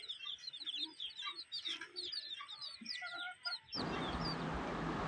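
A brood of twenty chicks with their mother hen, the chicks peeping densely and continuously while the hen clucks low beneath them, before a sudden broad noise cuts in near the end.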